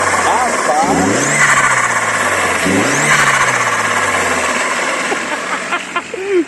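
An Audi A3 with a 180 hp turbo engine revs loudly twice, climbing in pitch each time. Quick fluttering chirps from the turbo follow near the end, and voices are heard around it.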